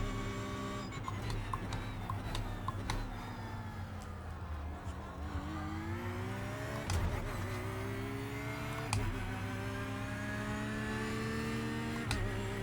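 A Porsche GT3 race car laps the Knockhill circuit, its engine revving up and down through gears with rising and falling whine, sharp shifts and bumps, a steady close in-car drone throughout with no talking.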